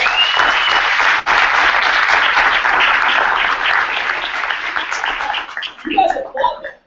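An event audience breaks into loud, dense applause, a sustained wash of many hands clapping that thins and fades near the end as a voice cuts in.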